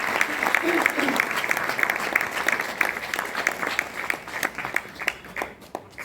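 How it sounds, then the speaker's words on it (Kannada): Applause from a festival audience at a national music and dance festival, a dense crowd clapping that fills the whole stretch and slowly thins toward the end. "ಅದಕ್ಕಾಗಿ ಇನ್ನೂ ಜೋರಾಗಿ ತುಂಬನಾಗದ ಚಪ್ಪಾಳೆಯನ್ನು ನಾನು ಅಪೇಕ್ಷೆ ಪಡ್ತೀನಿ"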